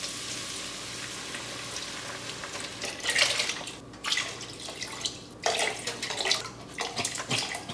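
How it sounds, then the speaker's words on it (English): Beef broth poured into a pot of oxtail stew, a steady liquid splash and trickle rising in bursts over a few seconds, close and moderately loud, with no talking. "Time to add a little bit of that beef broth in there."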